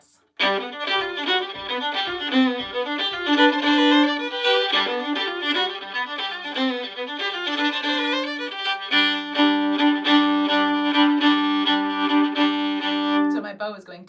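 Fiddle playing a bluegrass tune with fast, syncopated bowing, bright, close and continuous, notes driving along in a quick, even pulse for the whole stretch.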